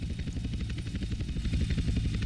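A helicopter in the SA-MP video game drones overhead with a steady, loud rotor chop that carries through the whole stretch, and nobody speaks.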